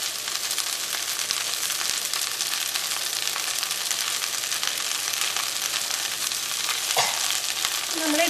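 Green chillies sizzle and fry steadily in a hot pan while being stirred for vendakkai (okra) masala, a continuous loud crackle with occasional scraping of the utensil near the end.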